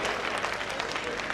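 Audience applause at a Jain community annual convention, dense steady clapping from a crowd throughout, even and sustained.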